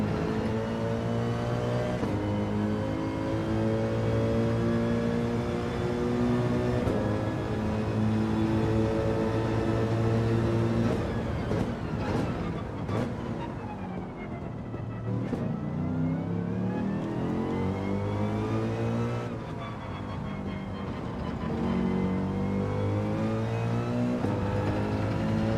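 A race car engine in Gran Turismo 7 revs hard through the gears, rising and falling in pitch with upshifts and a dip as it slows for a corner, loud and continuous throughout.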